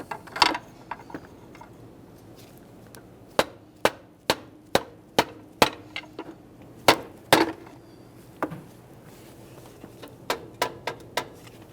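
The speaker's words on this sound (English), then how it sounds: "Just put my pry bar gently up against this ear here." A pry bar rocking an alternator loose from its mount on a 2015-2020 Ford F-150 3.5L V6, a series of sharp metallic knocks and clanks at irregular intervals, close by with no talk.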